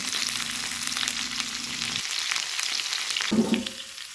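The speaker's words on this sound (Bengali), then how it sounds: "ফুলকপিগুলো দিয়ে দেবো এর মধ্যে তারপর ভালো করে ভেজে নেব" Cauliflower florets fry in hot oil with a steady, close hiss and crackle, a low sizzle easing partway through before a fresh spatter of bubbling rises near the end.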